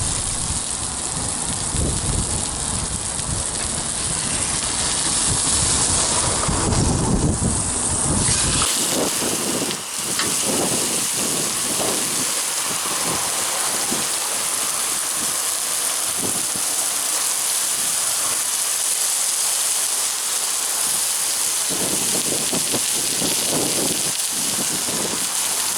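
A steak sears hard in a hot cast iron skillet just after being flipped, giving a loud, continuous crackling sizzle close up that settles slightly after the first few seconds, with no talking.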